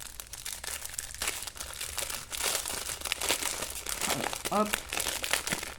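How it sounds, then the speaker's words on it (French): Crinkly plastic sachets of half-pearl beads are cut open with scissors, giving close, continuous crackling and rustling with a few brief snips, while someone talks over it. "Je vais couper chaque sachet."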